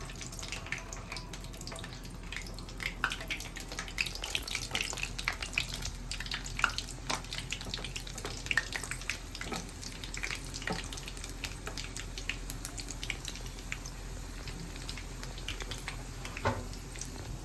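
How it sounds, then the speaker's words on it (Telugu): Badusha sweets deep frying in hot oil, a soft continuous bubbling hiss with scattered small pops and crackles, fairly quiet and steady, no talk. "ఈ సిమ్లో పెట్టుకొని స్లోగా డీప్ ఫ్రై చేసుకోవాలి ఫ్రెండ్స్"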